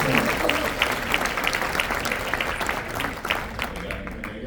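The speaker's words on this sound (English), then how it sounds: "let's give all of our panelists a round of applause" A conference audience at a Building Black Wealth session applauds its panelists with dense, even clapping, individual claps popping out through the wash, fairly loud and sustained before easing off toward the end.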